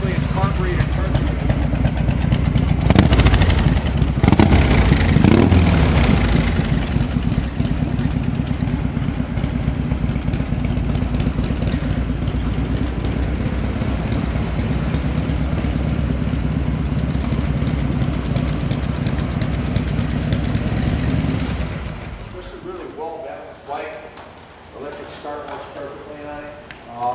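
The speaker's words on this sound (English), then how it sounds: "Idles perfectly. It's carbureted perfectly." A carbureted shovelhead engine on a 1980 Harley-Davidson FLT King of the Highway idles loudly with a lumpy, uneven exhaust beat, close up, then cuts off near the end, with someone talking over it.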